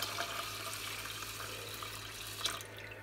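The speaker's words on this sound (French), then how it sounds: "je vais mettre donc de l'eau, tout simplement" Water poured into a rice cooker pot over measured rice, a soft steady trickle with faint splashes and a low constant hum beneath, quiet and close, no talking.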